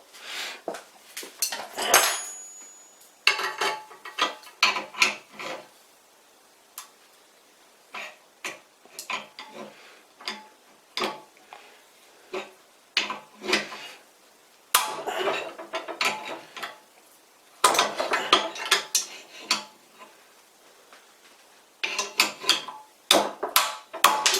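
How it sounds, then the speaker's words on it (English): A large puller is worked to force a pulley off a lathe, producing irregular metallic clicks, ratcheting and clanks in bursts separated by brief pauses, close and fairly loud. "let's continue destroying this one with a bigger puller"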